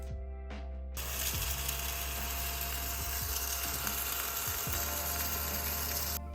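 A tiny desk vacuum cleaner switches on after a brief moment and runs with a steady, fairly loud high-pitched whine and motor hum, interrupted by a few small rattling clicks.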